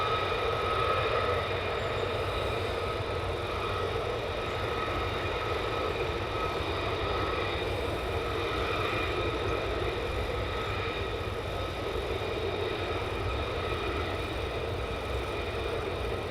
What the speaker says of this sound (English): There's more F-35s taxiing down.